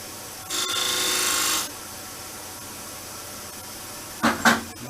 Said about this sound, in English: I can just put the point of the skew in here and just cut a millimeter groove in there